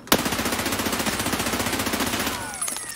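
Automatic gunfire in Escape From Tarkov: a loud, close burst of rapid, evenly spaced shots runs for over two seconds, then stops abruptly and leaves a faint ringing tail.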